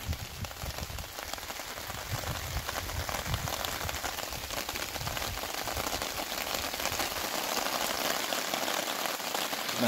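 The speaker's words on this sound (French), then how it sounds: "Il pleut." Steady rain falls on a riverside hammock camp beside Rivière du Poste, a dense, even patter on surfaces nearby that continues without pause, with no one speaking.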